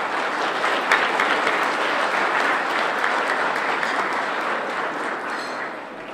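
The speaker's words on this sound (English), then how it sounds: "So please give the committee a round of applause." An audience gives the committee a round of applause: dense, steady clapping from a full room, loud and continuous, easing off slightly toward the end.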